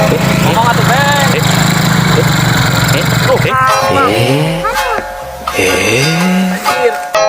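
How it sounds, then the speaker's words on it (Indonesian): A motorcycle engine roars and revs loudly and steadily with rising and falling pitch, then drops back as a voice speaks. Further revving swells in and out toward the end. "Motor tarik-tarik."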